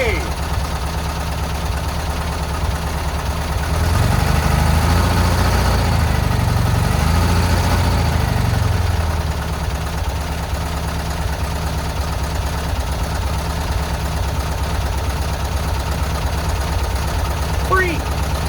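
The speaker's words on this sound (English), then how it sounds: "The free bus runs." An old, long-neglected VW Bus engine idles with a low, steady rumble, rising briefly and then settling back, with people talking over it.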